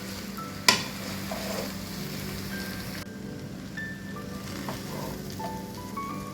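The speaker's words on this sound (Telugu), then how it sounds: "ఇప్పుడు ఈ రైస్ అంతా కూడా మసాలా కలిసేంత వరకు కలుపుకుందాం స్లోగాను." Broccoli pulao rice is stirred slowly through a masala sizzling in a pan, with steady frying crackle throughout and a sharp scrape of the spoon against the pan near the start.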